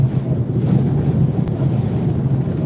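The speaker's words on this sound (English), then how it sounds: "this is some big time gusts starting to come in" Strong wind gusts buffet the microphone under a high wind warning in the Texas Panhandle, a loud, low, roaring rumble that swells and churns steadily, with no talking.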